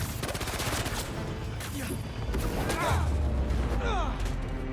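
Enemy gunfire in Spider-Man 2 crackles in rapid, continuous bursts with heavy impacts and swooshing action effects, loud and dense throughout, a voice speaking beneath the din.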